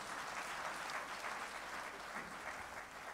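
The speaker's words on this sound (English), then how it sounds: "I thought you were clapping better for the Lord," Church congregation applauding during a Sunday service in Accra, steady dense clapping that fills the room throughout.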